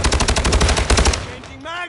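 Rapid video game automatic gunfire, loud and close, fires in a fast regular burst for over a second, then cuts off as a faint voice follows.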